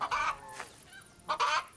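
Chickens cluck in short nasal bursts, two loud close calls with a softer one between, outdoors with no talking.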